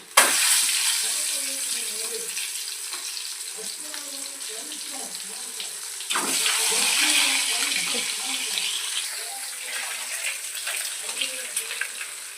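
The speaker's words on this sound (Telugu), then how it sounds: "గుడ్లు అయితే కలర్ సేడ్ చేంజ్ అయినాయి చక్కగా ఏగుతున్నాయి" Eggs fry in hot oil in a pan, giving a dense, continuous hiss and crackle up close that swells briefly partway through. Faint low voices murmur underneath.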